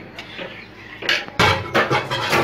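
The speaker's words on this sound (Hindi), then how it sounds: "ध्यान रखें, इसे हमेशा हिलाते रहें, चलाते रहें, नहीं तो ये कढ़ाई में जो बर्तन में आप इसे पका रहे हैं बर्तन में लगेगा।" Mango jam stirred in a kadhai over a high flame, with a spoon scraping and knocking against the metal pot in close, uneven clatters and scrapes.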